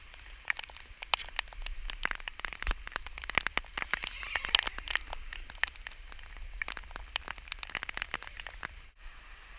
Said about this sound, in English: Not sure if you can hear the rain pounding on the outside of the fly sheet.